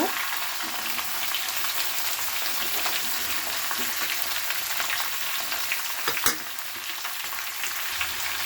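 Cauliflower, peas and potatoes stirred in a frying pan, a steady close hiss of frying with soft scraping and one brief sharp knock near the end.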